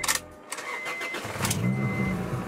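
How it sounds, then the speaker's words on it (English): A Honda Integra engine cranks and catches, dropping briefly quiet before a steady low engine hum builds and holds close by, with no talking over it. "now I have to start the car. I have to crank it."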